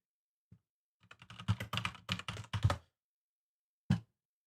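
Computer keyboard clacking at a gaming-league stream desk: a quick burst of close, rapid key strikes lasting about two seconds, preceded by a single tap and followed after a pause by one more isolated keystroke, with no talking.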